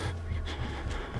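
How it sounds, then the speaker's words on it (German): A game character breathes heavily and raggedly in the horror game Outlast, a close, steady run of panting breaths repeating about every quarter second with no talk over it. "Der atmet aber schon wieder so bescheuert."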